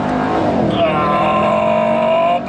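A 2019 Jaguar F-Pace SVR engine revs hard and accelerates into a corner, loud and close, its rising roar climbing in pitch and holding strong to the end.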